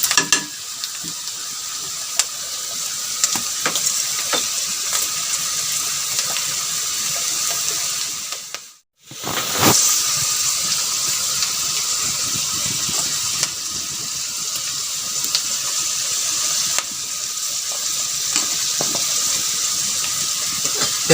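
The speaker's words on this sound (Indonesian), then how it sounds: "kita goreng sambalnya di sini aja." Sambal frying in a pan on a single multi-purpose stove, a loud continuous sizzle with stirring, briefly cutting out near the middle, alone without talk.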